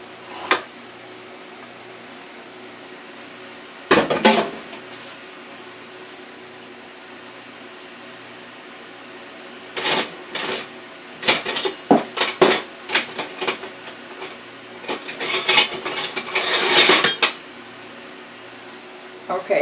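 Olive oil is spread over a baking pan for peach shortcake, the pan clattering and scraping in a few sharp metallic bursts separated by quiet stretches, close and moderately loud.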